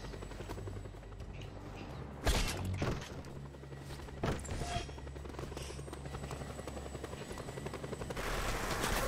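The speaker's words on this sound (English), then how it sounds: "Do I hear a chopper?" A helicopter in the video game Just Cause 2 drones continuously with a low rotor hum, punctuated by a few sharp gunfire bursts and thuds from the game action.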